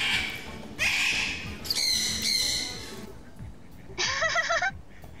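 Colourful young parrots in an aviary give loud, harsh squawks in several separate bursts. The calls are close, over a busy background of rustling and soft human chatter.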